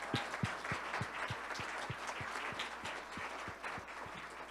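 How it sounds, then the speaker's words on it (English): Audience applauding at an annual awards celebration and auction, steady dense clapping from a crowd sustained throughout, moderately distant and even. "let's have a round of applause for Colin"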